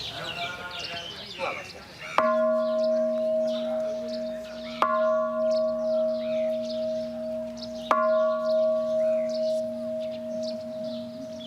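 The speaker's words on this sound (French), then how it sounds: "Nous sonnons la cloche pour partager les mérites et afin que tout le monde puisse en profiter" A bell at a Buddhist pagoda in Bagan, Myanmar, is struck three times at spaced intervals. Each clear metallic strike rings on with a long, steady humming sustain, over soft background chatter and outdoor ambience.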